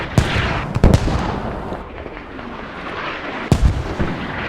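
Mortar rounds explode during a competitive squad match in a war video game, sharp heavy blasts landing in a loose cluster, then a lull of rumbling ambience before another loud impact near the end.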